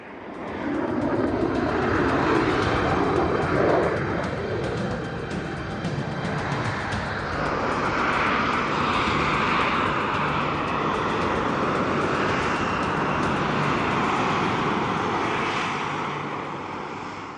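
Harrier jump jet engines roar steadily during a vertical descent, a loud, continuous, broad jet blast with slowly shifting tone that holds for the whole stretch and fades slightly at the end, with no voices.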